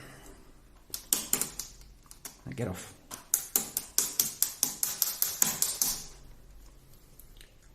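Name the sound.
banging an RC car drive shaft through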